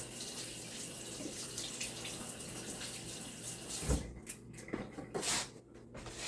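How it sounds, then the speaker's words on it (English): Hands are washed under a running kitchen tap while brownies are made from scratch, a steady stream of water rising in the second half with splashes and rubbing, close and fairly loud, with no talk over it. "Wash my hands for a second."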